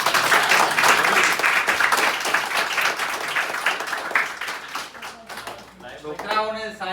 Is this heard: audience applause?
yes